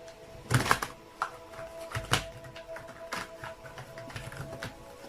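A deck of tarot cards being shuffled at a reading table, with soft riffling and tapping bursts at irregular intervals, fairly quiet and close with no talking.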